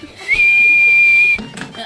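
A person whistles one long steady high note that holds for about a second before breaking off, loud and close, with faint background noise around it in a kitchen setting.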